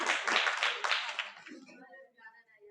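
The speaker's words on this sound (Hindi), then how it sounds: "अच्छा, एक बार इनके लिए तालियां बजा दीजिए कम से कम।" Children clap at a Christmas Day gathering at a coaching center in a short burst of dense applause that fades out after about a second and a half, leaving faint background sounds.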